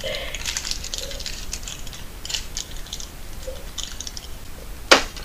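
Small screws are taken out of a packet for a Xigmatek Loki 2 installation, with light rattling and clicking in scattered bursts, close and faint, ending in one sharp click.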